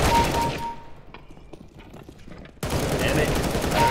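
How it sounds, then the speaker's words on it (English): Rapid gunfire from the video game Counter-Strike (CS:GO), loud bursts at the start and again in a sustained stretch near the end, with a quieter gap between and some voice underneath. "You, you keep shooting me in the face."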